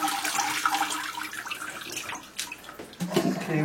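Water splashes and sloshes as mechanical parts, including pins, are rinsed in a bucket, a close, busy stream of gurgling and swishing with a few sharper splashes toward the end.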